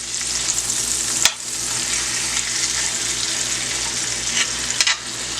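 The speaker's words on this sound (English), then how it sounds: "I'm gonna go ahead and also add some peppers, and I'm gonna leave that for a few minutes and let it saute" Onions and peppers sauté in a pan for vegetable fried rice, producing a loud, even hiss of frying with a couple of sharp clatters from stirring.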